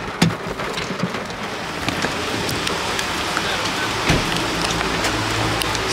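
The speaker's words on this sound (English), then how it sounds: "The rain is tearing" Heavy rain pours steadily in a dense, continuous hiss, with scattered louder drop impacts close by and no talking.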